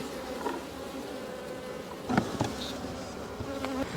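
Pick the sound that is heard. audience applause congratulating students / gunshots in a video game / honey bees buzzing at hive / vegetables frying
honey bees buzzing at hive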